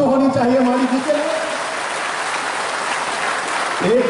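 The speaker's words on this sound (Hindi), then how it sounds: "तो जरा जोरदार ताली तो होनी चाहिए मानिक जी के" A crowd at a political rally in Assam claps in a dense, steady wash of applause that swells and holds for a few seconds, with a voice over the start and the end.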